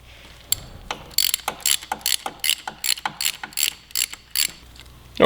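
A torque wrench ratchets in quick, crisp clicking bursts while tightening block off plate bolts on a 2017 Yamaha R6, close and clear with short pauses between strokes.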